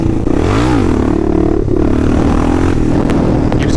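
A Kawasaki KLR650 with a 14-tooth sprocket revs hard in third gear during a wheelie, its loud close engine note rising and falling with a slight scraping clatter toward the end.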